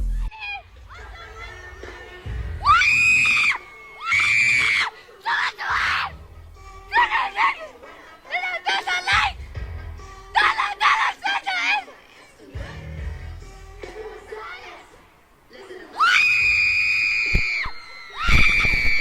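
Loud, excited crowd screaming and cheering in repeated bursts, shrill shrieks rising and falling across the clip.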